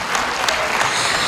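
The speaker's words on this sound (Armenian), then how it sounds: "եկեք ծափահարենք բոլոր կատարողներին" Audience clapping for the performers at a concert celebrating a Armenian ashugh's 65th birthday, a continuous full round of applause from a seated crowd with a few sharper individual claps standing out.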